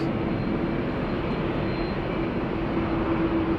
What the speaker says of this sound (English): as the airplane is turning more towards us with its engines, they are going to sound louder